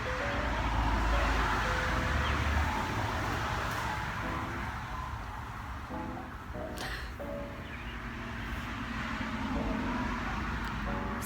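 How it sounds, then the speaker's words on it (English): Steady road traffic rumbles past throughout, a constant wash of car and roadway noise with occasional louder passing vehicles, heard at a moderate distance with no talking. "So much traffic."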